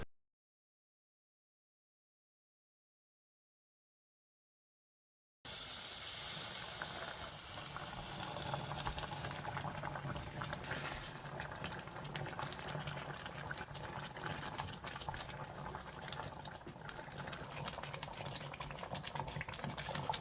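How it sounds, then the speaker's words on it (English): Ethiopian shiro, a thick chickpea stew, simmers in a pot after about five seconds of silence, giving a steady low bubbling and soft popping that continues close by and fairly quiet to the end. "Let it simmer for a few minutes, stirring gently."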